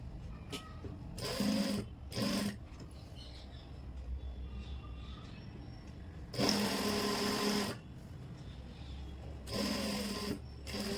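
A sewing machine stitches a zipper onto trousers in three bursts of rapid whirring, each a second or two long, separated by quiet pauses, close and clear.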